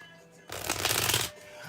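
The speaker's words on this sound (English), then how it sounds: "I'm shuffling the cards for you" A short, close riffle of tarot cards being shuffled, a dense papery burst lasting under a second between quiet moments.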